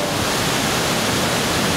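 Steady roar of a waterfall in the North Carolina mountains, close by, a dense continuous rush of falling water with no break for the whole stretch.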